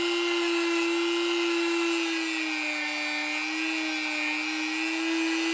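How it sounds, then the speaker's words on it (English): Dremel rotary tool grinding down a plastic peg on the inside of a plate carrier vest, a continuous high-pitched whine held steady and loud for several seconds with a slight wavering in pitch. "then I'm going to Dremel down that peg"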